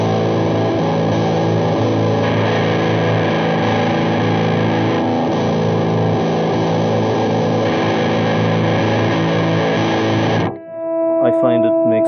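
A Greenhouse Effects Sludge Hammer distortion pedal on its vintage setting: a thick, fuzzy distorted electric guitar sustains a heavy chord for about ten seconds, then cuts off, followed by a few brief cleaner notes.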